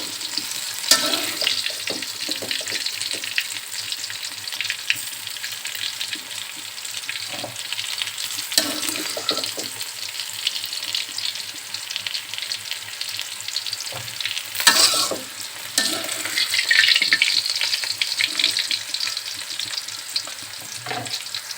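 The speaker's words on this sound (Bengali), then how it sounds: "এগুলোও ভাজা হয়ে গেছে এগুলো উঠিয়ে নিচ্ছি" Spiny gourd (kakrol) pieces frying in hot oil in a pan, a continuous close sizzle broken by repeated stirring scrapes and clatters, with no one speaking.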